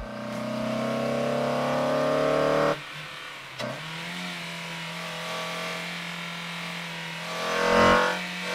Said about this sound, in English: What do you say we take the car out and abuse a few of the local freeway on-ramps to check out the grip